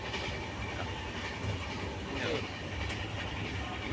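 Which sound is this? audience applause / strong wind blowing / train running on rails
train running on rails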